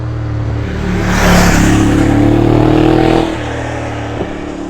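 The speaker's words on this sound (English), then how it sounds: "Say hello to a noisy bike." A Royal Enfield Interceptor 650 motorcycle engine revs up loudly from idle, holds a high rising note for about two seconds, then drops back to a steady close idle with a small blip near the end.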